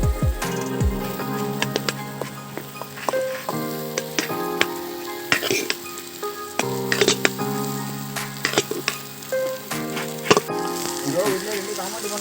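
Vegetable fried rice fries in a pan right after the cooked rice goes in. A continuous sizzle with scraping and stirring clatter sits under prominent background music.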